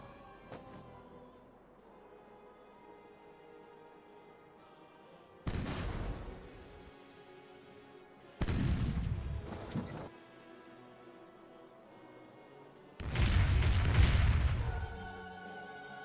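Ship cannons firing in the naval battle game Caribbean Legend: Age of Pirates, three separate heavy booming volleys spaced several seconds apart, each a dense rolling broadside, loud over quiet background music.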